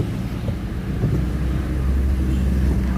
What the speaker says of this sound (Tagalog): Idle natin ng mga ilang minuto lang.